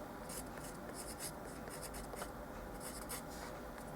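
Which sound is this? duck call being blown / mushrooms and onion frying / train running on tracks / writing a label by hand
writing a label by hand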